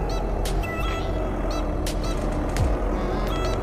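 Several short truck horn blasts in Euro Truck Simulator 2 sound over a steady, loud engine and road drone, coming in separate bursts spread across the stretch.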